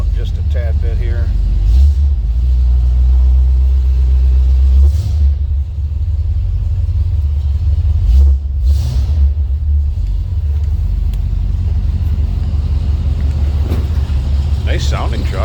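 A 1949 International KB2 truck's V8 engine warms up, a loud low rumbling idle with brief surges, and someone talks over it.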